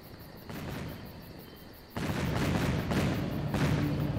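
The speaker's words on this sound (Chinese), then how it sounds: "这叫烟花，我让谷中弟子从人间带回的" Fireworks burst in a dramatic scene, several booming pops arriving one after another over a few seconds, each followed by a crackling tail over a steady background.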